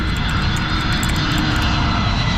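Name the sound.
Airbus A320neo airliner engine sound while landing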